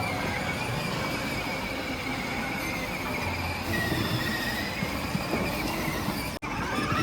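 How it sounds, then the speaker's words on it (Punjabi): A small train rolls in at an outdoor amusement area of a shopping plaza in Barnala, Punjab, with a steady close rumble of wheels on rails and thin metallic squeals throughout. "ਆ ਟ੍ਰੇਨ ਵੀ ਆ ਗਈ ਇਧਰ"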